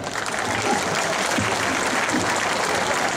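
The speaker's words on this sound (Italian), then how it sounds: "E scatterebbe l'applauso." Audience applause at a town band concert during a patronal festival in Manfredonia, a steady dense wash of clapping from a large crowd filling the whole stretch without a break.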